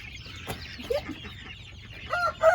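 Chickens cluck and squawk softly nearby in short, scattered bursts, with a faint low hum in the background.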